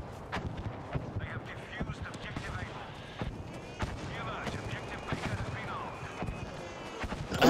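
Artillery barrage landing in Battlefield V, a dense stream of booming impacts and gunfire crackle layered over continuous loud battle noise, ending in a heavier close blast, with voices talking throughout.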